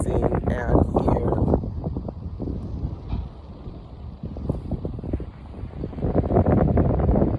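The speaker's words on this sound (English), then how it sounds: "It's a bit windy" Gusty wind buffets the microphone in a steady low roar while a person talks over it throughout.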